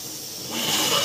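Water boils in an idli steamer with a steady, airy hiss that swells louder halfway through, with no voices.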